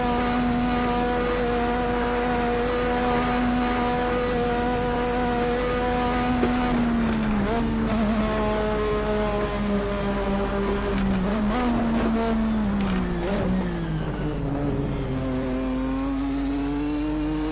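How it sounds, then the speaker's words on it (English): Formula 1 car engine in Assetto Corsa on the Nürburgring Nordschleife, droning steadily at high revs for a long stretch, with the pitch dipping and climbing through several gear changes and braking zones, loud and close, with no talk. "This car is not that much slower than a modern Formula 1 car."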